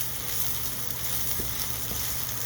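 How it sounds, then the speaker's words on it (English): Scrambled eggs sizzle steadily in a hot pan as they are dragged around, a close, even frying hiss with faint soft scraping underneath. "And you can already start to hear that egg set up."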